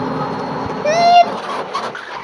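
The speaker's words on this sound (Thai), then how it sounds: "อยๆเดี๋ยวผมขับเป็นร้อยกิโลเมตรแล้วจะลองเบรกดู" A Mitsubishi SUV drives at about 100 km/h and brakes. A steady engine and road roar carries through, with a brief tonal squeal midway, under someone talking.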